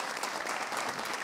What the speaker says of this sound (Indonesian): tepuk tangan dong nih